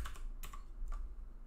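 Soft, quick keystrokes clatter on a computer keyboard in a few short clusters, quiet and close against a low background hum.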